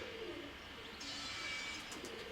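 Soft, low pigeon coos sound close by against a steady background hum, repeating in gentle rolling phrases.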